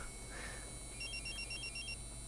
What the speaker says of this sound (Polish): Boże, tylko nie telefon.